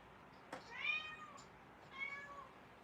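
A cat meows twice indoors, a drawn-out rising-falling cry followed by a second shorter one a second later, moderately close and clear over a quiet background with no talk.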